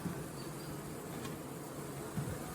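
A soft, steady drone of many honey bees fanning and washboarding on a brown hive box, quiet and continuous with no voices.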